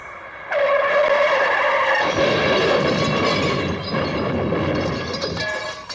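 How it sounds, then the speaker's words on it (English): A car skids with loud, screeching tires for several seconds, a harsh, sustained squeal that suggests a crash, close and dramatic. "we hear the dramatic sound of a car accident"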